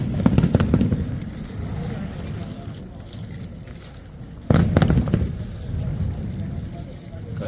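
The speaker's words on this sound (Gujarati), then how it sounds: "કઈ બાજુ બોમ્બ ફૂટે છે એલા." Firecrackers bursting outside at an evening gathering, sharp pops heard at a distance with one louder burst midway, while people chat nearby.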